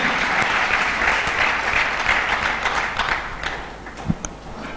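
A church congregation applauds together, a dense, lively burst of clapping that fills the room and gradually thins out toward the end, with a few scattered louder claps.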